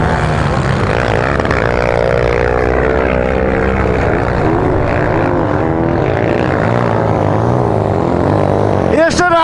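A KaYo K2 dirt bike engine revs hard at a gravel pit, a loud, continuous buzzing drone that rises and falls in pitch throughout, with voices faintly underneath.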